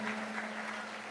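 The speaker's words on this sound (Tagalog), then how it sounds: "Malakas na palakpak para sa ating mahal na Panginoon." Applause from a church congregation during a Pentecostal-style worship service, a dense, steady wash of clapping holding at even loudness for about a second, with a steady low hum beneath it and no voices standing out.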